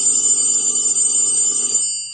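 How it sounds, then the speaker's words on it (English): An antique Western Electric 50AL candlestick phone's mechanical bell rings in a loud, rapid continuous jangle for nearly two seconds, then stops abruptly with a brief metallic ring-out. "I forgot in my last video to let you hear how my Candlestick phone rings."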